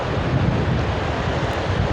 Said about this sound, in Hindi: एक तरफ समंदर की लहरें